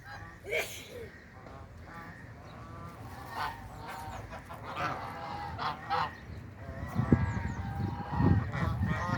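A flock of geese honks and calls repeatedly at the Yeşilırmak river, loud, overlapping cackles rising and falling as the birds gather close by, with bursts of honking growing denser toward the end.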